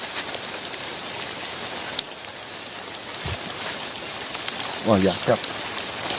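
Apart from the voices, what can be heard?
rain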